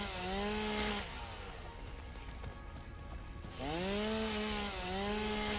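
Chainsaw felling trees in the factory-building game Satisfactory: a loud, steady motor whine that dips in pitch while biting into wood, then revs back up, close and continuous with no talking.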